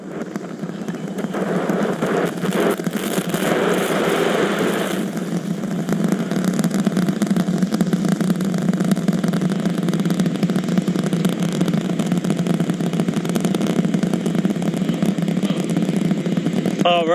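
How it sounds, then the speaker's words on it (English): SpaceX Starship Super Heavy rocket lifting off, a loud, steady, broadband roar with a deep low rumble that holds and slowly builds for the whole stretch, with no voices over it. "The rumbles are still building here in the Raptor's nest."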